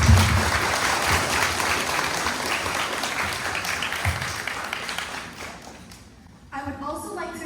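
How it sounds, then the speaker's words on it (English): An audience applauds at an Eagle Scout court of honor for Troop 745, with dense, steady clapping that fades after about six seconds before a voice starts speaking. "Can we please have a round of applause?"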